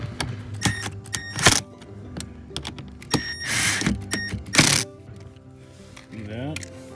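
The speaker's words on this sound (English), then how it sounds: "So I'll tighten it up now." Ratchet clicks from tightening the mud flap fasteners on a Ford F-150 Tremor, heard as short bursts of mechanical clicking mixed with clattery handling noise and a voice talking over it.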